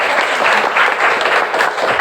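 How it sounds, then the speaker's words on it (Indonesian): A room full of people claps steadily, a dense, continuous patter of applause at close range. "berikan tepuk tangan"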